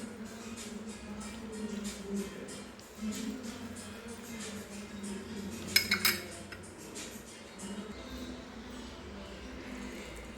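Pasta sauce is mixed with milk in a pan, a utensil scraping and clinking against the metal in irregular strokes, with a louder cluster of clinks midway and faint background noise.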